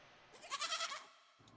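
Domesticated oxen in a fantasy tabletop game make a goat-like bleat, one short wavering call that is soft and fairly close, with a quiet background.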